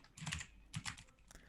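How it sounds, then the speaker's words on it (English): Quick bursts of typing on a computer keyboard, close clicking keystrokes in a few short clusters with brief pauses. "Oh, look at you, clickety clacking, typing like you know what you're doing."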